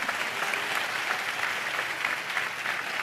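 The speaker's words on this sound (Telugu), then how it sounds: "చప్పట్లు కొడుతూ స్తోత్రాలు చెప్దాం" A church congregation claps in praise in a dense, continuous burst of many hands that stays loud and even throughout.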